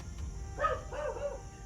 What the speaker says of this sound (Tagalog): Kaya maingay siguro ang mga aso.